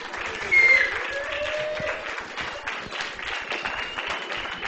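Lecture hall audience clapping and murmuring together, a steady, moderately loud wash of hand claps and chatter with a brief louder burst near the start.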